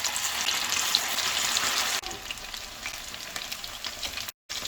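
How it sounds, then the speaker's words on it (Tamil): Chicken pieces for Chicken 65 deep frying in hot oil give a steady, loud broadband sizzle that drops slightly in intensity midway, with a brief silent gap near the end and no voices. "நம்ம சிக்கன் பீஸ்லாம் போட்டு ஃப்ரை பண்ணிக்கலாம்"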